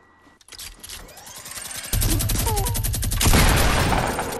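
Video game gunfire in a battle royale match where a crossbow is in play, with a rapid loud burst of shots that builds into sustained dense firing, close and dominant.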